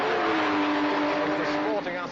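Loud, steady roar of BMW race car engines during a race, one tone rising and falling slightly in pitch with a busy, saturated mix underneath, dropping a little toward the end.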